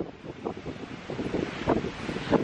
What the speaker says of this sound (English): I don't even know if you can hear me because of this wind.